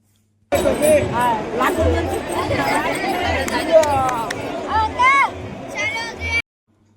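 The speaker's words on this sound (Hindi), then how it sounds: "देखिए कितना भीड़ है।" Dense crowd murmur at the Triveni Sangam aarti, many voices overlapping into a steady, close babble that holds throughout with no pauses.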